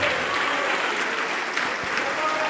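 Loud, continuous applause from a church congregation praising Jesus, a thick crowd of hands clapping evenly without pause, close and full.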